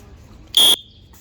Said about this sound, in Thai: พอป้าป้า เป่านกหวีดปุ๊บทิมทอยกับฟังเสียงนกหวีด